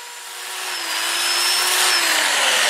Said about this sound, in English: sand it with the 2-inch disc, starting with 80 grit, and then I'll work up through 400